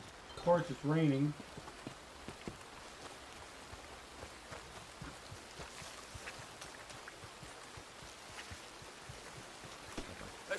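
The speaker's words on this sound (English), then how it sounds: "Of course, it's raining." Steady rain patters across a surface throughout in the video game Red Dead Redemption 2, with a brief louder tonal burst near the start before the even wash of drops continues.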